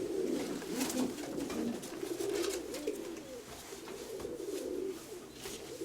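A pigeon coos repeatedly in low, throaty phrases close by, with other birds calling faintly in the background.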